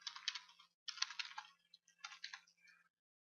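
Quiet computer keyboard typing comes in three quick bursts of light clicking keystrokes separated by brief pauses, close and alone with no talk.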